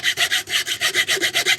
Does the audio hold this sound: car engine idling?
no